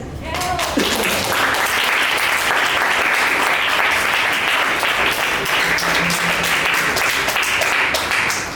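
Sustained applause from a student audience at a school debate for fifth-year secondary pupils, following a speech; dense, even clapping fills the room throughout with a brief voice early and faint talk underneath.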